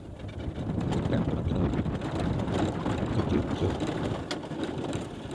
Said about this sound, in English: But the wind has been blowing like crazy.